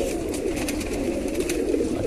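Pigeons coo in soft, low, overlapping murmurs in a pigeon loft, a steady chorus of several birds close by with no talking.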